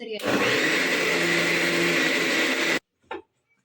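A loud, steady motor whine of a mixer grinder grinding spices runs for nearly three seconds, then cuts off abruptly, followed by a brief clunk.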